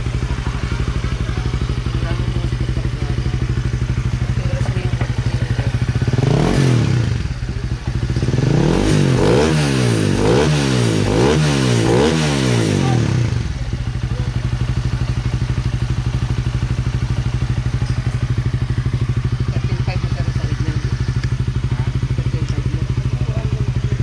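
A Honda RS150 motorcycle engine with a tuned ECU revs repeatedly to its rev limiter, loud and close over a steady idle. Rapid rising-and-falling pulls bunch together in the middle before it settles back to idle, with voices talking alongside.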